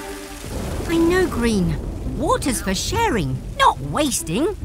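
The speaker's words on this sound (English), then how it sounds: "It's raining." Steady rain patters down in a children's cartoon about a garage of trucks, a constant hiss running under lively character voices throughout.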